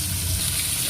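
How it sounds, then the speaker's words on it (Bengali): Lote fish fry whole in hot oil, giving a short, steady close sizzle with no talk. "এবার একটাকে গোটা গোটা করে ভাজা হবে, এক একটা করে ভাজা হবে।"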